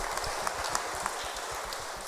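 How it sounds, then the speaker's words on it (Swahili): A church congregation claps for the Lord in a steady, rapid rhythm of many hands, faint and somewhat distant, with no talk over it. "Pigieni Bwana makofi."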